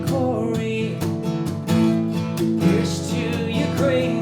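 Acoustic guitar played with steady all-down strums through the end of a worship song's bridge, building toward the chorus, full ringing chords at a regular pulse, close and sustained with no voice.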